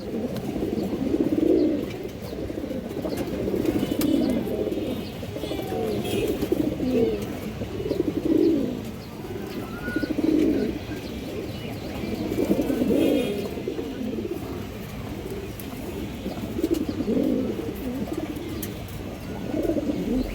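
Domestic pigeons in a fancy breeder's loft, including a red hen, coo in a low, rhythmic way. Soft, burbling coos repeat every second or two, close by and steady throughout.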